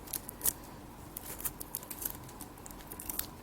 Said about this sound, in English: So I'll just start applying my tape inside